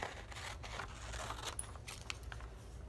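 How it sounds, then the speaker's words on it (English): Faint snipping of scissors cutting through magazine paper, a few soft cuts over a steady low background hiss. "So I'm just going to use my scissors and cut a line."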